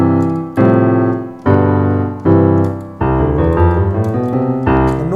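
Plain electronic keyboard notes and chords, struck one after another with clear decays, no backing rhythm or extra instruments.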